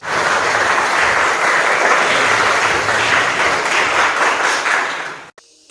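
A church congregation claps loudly during a Way of the Cross service, a thick, sustained burst of many hands that holds for about five seconds before stopping abruptly.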